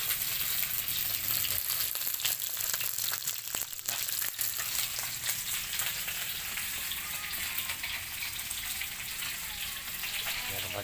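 Chicken pieces frying in hot oil, a steady close, dense sizzle with crackling pops running throughout without pause.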